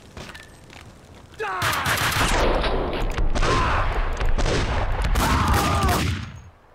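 A Desert Eagle pistol fires in the Max Payne 2 video game, part of a loud, dense run of rapid shots and impacts that starts abruptly, keeps going for about five seconds, then cuts off.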